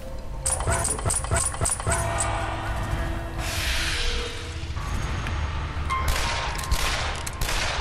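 Revolver fire from the video game Shadow Warrior HD: a series of sharp, evenly spaced shots at the start, followed by mixed game effects and bursts of noise, all loud and up close.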